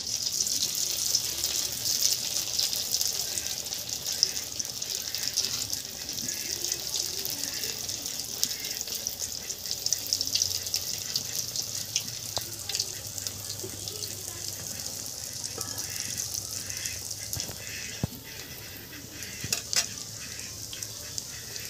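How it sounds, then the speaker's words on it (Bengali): Bread and egg patties frying in a pan, a steady soft sizzle with faint bubbling hiss running evenly throughout, fairly close and moderate in level, with no talk. "এখন ভেজে নেব।"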